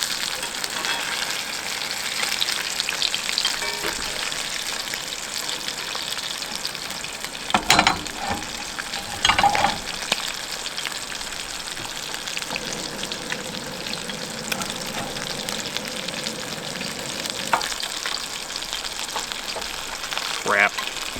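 White perch fillets frying in hot grease, a steady close sizzle and crackle running throughout with a few sharp clatters and bumps along the way, with no voices.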